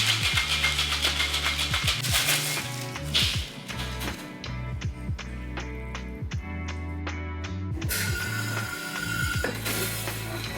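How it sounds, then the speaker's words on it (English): A cocktail shaker packed with ice for an Ocean Man cocktail is shaken hard, giving a rapid, even run of rattling knocks over a steady low hum. "Now we'll fill this with ice and give it a good shake"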